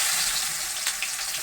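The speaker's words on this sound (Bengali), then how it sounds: "পেঁয়াজগুলো দিচ্ছি তেলের উপরে।" Onions hit hot oil with black cumin and dried chillies, giving a steady, bright hiss of sizzling close by, with no talking.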